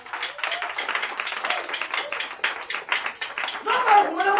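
A church congregation at a prayer service claps loudly and rhythmically to acclaim the Lord, the fast steady clapping mixed with singing and voices throughout.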